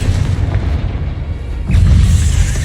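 A Confringo blasting spell in the video game Hogwarts Legacy: a loud, deep rumbling boom with a second heavier low blast about halfway through, both full of bass.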